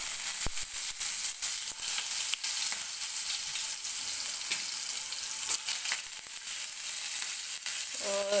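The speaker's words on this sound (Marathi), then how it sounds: "आपण जे दोडक्यामध्ये मसाला भरून घेतलेला होता तो आता या तेलामध्ये टाकून घ्यायचा आहे आपल्याला" Masala-stuffed ridge gourd sizzles and fries steadily in hot oil with cumin, a dense, continuous crackle close up with scattered pops and no talking.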